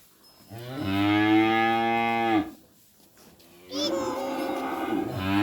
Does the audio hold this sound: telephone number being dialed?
no